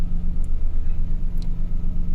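Suzuki Every DA64 engine idling at around 1,100 RPM with headlights on and a weakening battery, a steady low pulsing rumble close by with a couple of faint high ticks.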